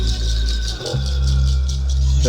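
Rattling percussion from an exotica song clatters in quick, busy strokes over a deep sustained low tone that swells in partway through, loud and continuous.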